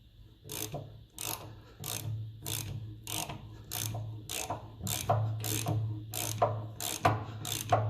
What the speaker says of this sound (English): Now we'll put our extension bar on and give all these a proper nip.